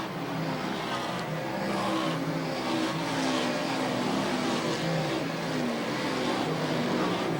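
Race cars at Airborne Speedway in Plattsburgh, New York, roaring together into a turn, a dense, sustained engine drone that holds loud and steady with rising and falling pitch, no voices over it.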